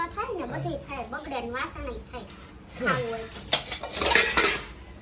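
Household dishes and pots clink and clatter in a home kitchen, light metallic knocks that grow busier toward the end, under a woman's chatty speech.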